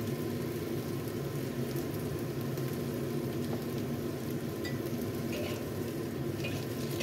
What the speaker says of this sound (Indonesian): Lalu kita aduk agar semuanya tercampur merata.